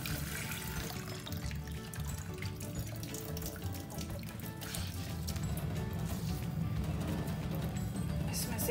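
Steady running water from a tap splashing into a sink while paneer is washed, continuous and fairly close, with faint handling sounds underneath.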